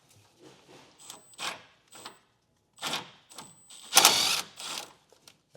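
A socket ratchet turns a bolt back and forth to clean threads while installing a B&W Turnoverball underbed gooseneck trailer hitch in a 2018 GMC Sierra, giving quiet, intermittent clicking bursts with pauses between strokes.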